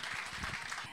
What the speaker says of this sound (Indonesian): Silakan kita berikan tepuk tangan untuk Yunita.